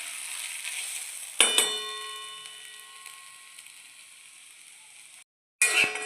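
Onion frying in a pan until brown gives a steady bright sizzle, broken by sharp metallic clangs of a spoon against the pan, then a short silence before the sizzle returns with more clinking.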